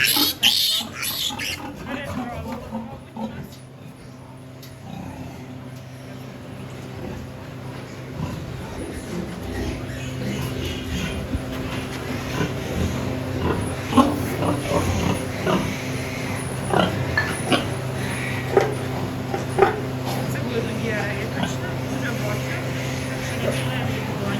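Pigs and piglets in a barn at farrowing time give intermittent grunts and short squeals over a steady background hum, with people talking at times.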